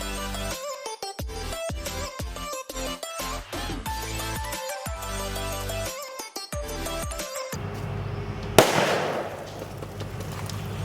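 A coconut fitted with a body bullet squib bursts as a film-style blast effect, a sharp loud explosion near the end following a stretch of loud rhythmic music, with a spray of debris noise trailing after it.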